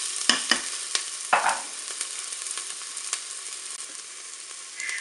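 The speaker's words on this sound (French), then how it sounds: "On va faire revenir les oignons." Onions sautéing in hot oil in a Cookeo, a soft continuous sizzle broken by a few sharp spatula knocks early on, close and without talk.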